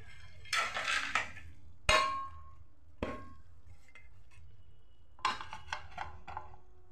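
A metal lid clanks onto a pot of cabbage and potatoes cooking with spices, giving a few sharp clinks and rattles with short quiet gaps between them.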